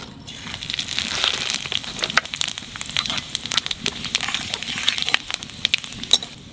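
Five-spice seeds and a bay leaf hit hot oil, crackling and popping in rapid irregular bursts over a dense close-up sizzle, with no one talking.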